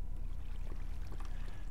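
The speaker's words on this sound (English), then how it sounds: "I might just pour that water there." Water being poured in Minecraft, a soft continuous rushing, splashing flow, low and steady throughout, with no talk over it.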